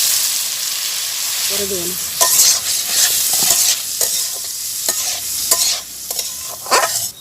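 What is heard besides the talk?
lentils (dal) sizzling and being stirred in hot pan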